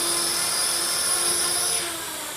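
Radio-controlled T-Rex 450 model helicopter flying close by, a steady high-pitched rotor and motor whine that holds loud and then eases slightly near the end.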